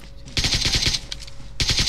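Rapid automatic gunfire in the mobile battle-royale game PUBG Mobile, two close, loud bursts of fast repeated shots with a short pause between them.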